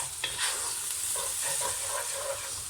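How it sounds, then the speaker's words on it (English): Onions sizzle on high heat in a pot for a vegetarian aloo gobi curry, with a steady frying hiss and repeated scraping strokes from stirring close by. "I want to brown these onions off"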